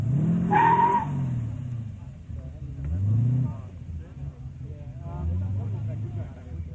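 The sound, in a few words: tough little car revving at Summernats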